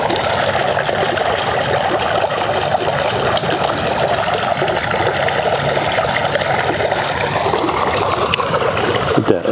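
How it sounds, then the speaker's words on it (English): A sulfur spring bubbling up from the ground in the main garden area of Washington Oaks Gardens State Park, Florida: a steady, loud, continuous watery trickle and gurgle heard up close, alone, with no talking. "So we're at a sulfur spring, it looks like, right in the main garden area. It's just bubbling up from the ground."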